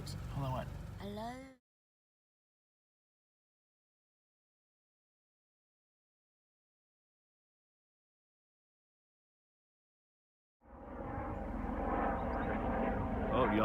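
After a voice and a long stretch of silence, a steady helicopter engine drone rises and holds overhead, fairly loud, to the end, at Pierce Ferry near the Grand Canyon.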